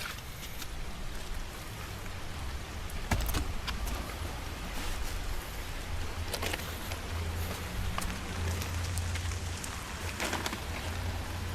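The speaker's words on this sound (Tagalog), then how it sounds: "It's raining" Steady rain falls outdoors with a dense, continuous patter on surfaces, close and fairly even throughout, with a few louder drops or knocks standing out.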